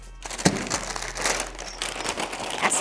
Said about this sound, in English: you wrap with a paper towel first, then the wrapping paper